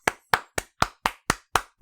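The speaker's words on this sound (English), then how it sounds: "I was trying to applaud you" Bare hands clap eight times in an even, fairly quick rhythm, each crisp slap close and isolated with short silences between, fairly quiet overall and with no voices.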